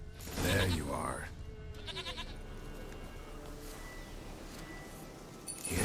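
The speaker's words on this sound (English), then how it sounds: "Here, goat." A goat bleats in The Witcher 3 on PS5, a loud wavering cry near the start followed by faint clinks and a steady game ambience with a soft second call at the end.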